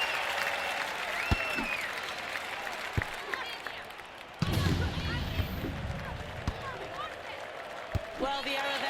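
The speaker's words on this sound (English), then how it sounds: "The crowd are on their feet with that point one." Spectators at a beach volleyball match applaud and cheer, a dense wash of clapping that surges halfway through, with a commentator talking over it and occasional sharp thuds.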